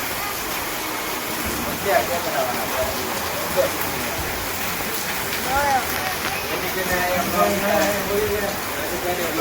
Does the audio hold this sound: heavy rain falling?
yes